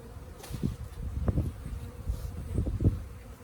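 Low honey bee buzzing hums steadily, swelling and fading in short bursts close by, with faint rustling underneath, during installation of a package of bees into an Apimaye hive.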